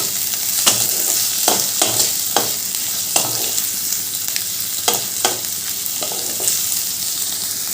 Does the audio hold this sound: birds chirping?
no